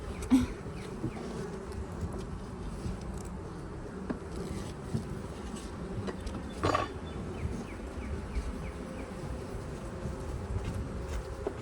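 Honey bees swarm around beehive pallets in a dense, steady buzz close by. Individual bees flit past now and then, and there is no talking.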